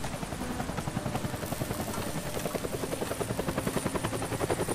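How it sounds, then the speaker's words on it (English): A helicopter chases characters in the video game Deadlight, its rotor thumping in a steady, rapid chop that grows slightly more pronounced over the few seconds, loud and close with no talk over it. "That's the helicopter chasing my friends."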